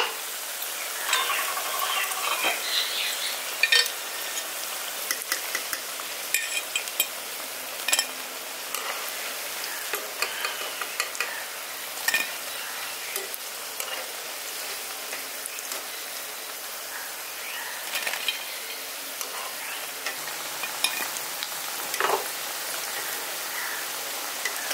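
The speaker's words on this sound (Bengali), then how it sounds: "পকোড়াগুলো উল্টে পাল্টে আমি লালচে করে ভেজে নিয়েছি।" Capsicum pakoras fry in hot oil with a soft, steady sizzle and scattered small crackles and pops throughout, and no one speaks.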